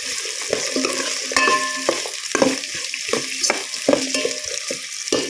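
Chopped onions and curry leaves frying in a pan for dal khichdi: a steady close sizzle broken by repeated sharp scrapes and clinks as a spatula stirs against the metal.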